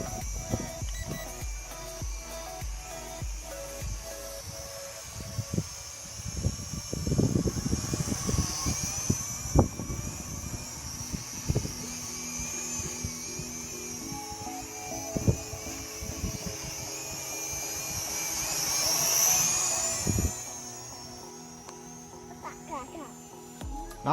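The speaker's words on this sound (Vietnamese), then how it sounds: "con flycam chúng ta bay cũng khá chi là ổn định" A camera drone flies in strong wind, its motors giving a steady high-pitched whine that rises and swells near the end, over low rumbling gusts and scattered bumps and knocks.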